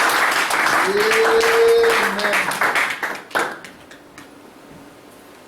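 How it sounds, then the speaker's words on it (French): A congregation applauds in acclamation for the Lord during a French-language church service, with dense clapping and shouts swelling for about three seconds, then thinning into a few scattered claps as it dies away. "Acclamation pour le Seigneur."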